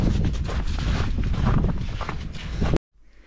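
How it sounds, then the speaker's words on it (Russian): Wind blowing outdoors buffets a microphone as a loud, steady rumbling gust for almost three seconds, then cuts off abruptly to near silence. "Ветер у нас."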